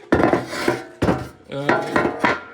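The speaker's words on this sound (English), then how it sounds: "Now I'm cutting this 3mm ABS in there as a bottom" A 3mm ABS plastic sheet is cut to fit as a bottom panel in a DIY camper outdoor kitchen, giving several loud, close, clattering scraping strokes in an uneven rhythm.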